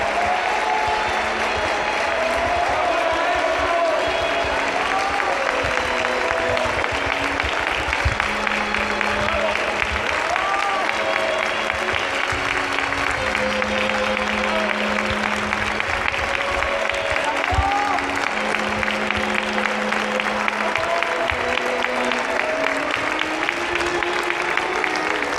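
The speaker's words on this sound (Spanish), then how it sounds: "Vamos a escuchar el aplauso con el que se ha recibido el maestro Ignacio López Tarso." A large audience at the Palacio de Bellas Artes in Mexico City applauds to welcome actor Ignacio López Tarso, sustained dense clapping from a big crowd in a resonant hall, steady throughout with voices murmuring underneath.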